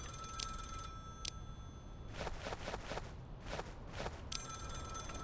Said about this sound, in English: Yeah, I know the phone's ringing.